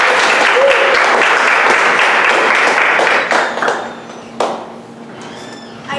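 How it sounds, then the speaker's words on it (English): Loud audience applause introducing a stage play, a dense wash of clapping for about three seconds that then thins out and fades to scattered claps. "Please again give a warm applause intro to Odelia's play,"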